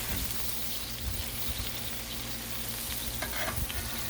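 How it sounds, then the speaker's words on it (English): Ground beef sizzles and crackles on a hot Blackstone griddle, a steady close frying hiss with scattered spatters and scraping stir sounds throughout. "Let's go ahead and add some ground beef,"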